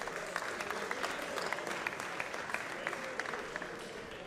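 Audience applause at the SwissEurobot 2017 robotics competition, a steady dense wash of many hands clapping throughout, moderately distant with faint crowd murmur mixed in.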